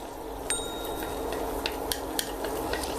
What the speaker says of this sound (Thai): เริ่มต้นก็ใส่น้ำมันนะครับ หลังจากนั้นก็ใส่กระเทียมนะครับ ตามลงไป